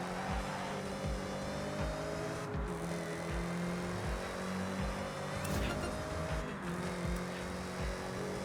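A 2024 Chevy Camaro engine in Forza Horizon drones steadily under a rapid pulsing exhaust rhythm, with slight pitch shifts as it drives, alone and without voices.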